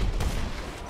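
Sniper rifle fire in GTA Online, a single loud broadband report at the start with a second burst just after, then a sustained noisy rumble of in-game action.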